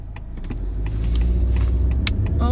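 A car driving along a road on the way to work, with a steady, loud engine and road rumble that fills the whole stretch and a few faint clicks and rattles from inside the cabin.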